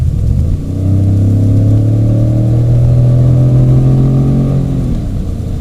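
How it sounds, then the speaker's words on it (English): A 2015 Ford F150 King Ranch pickup engine accelerating on a road, a loud deep mid-pitched growl rising steadily in pitch for several seconds before easing off, heard close from inside the cab. "it has more of a V8 kind of sound to it when you step on the gas"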